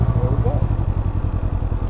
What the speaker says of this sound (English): And now hit the starter button.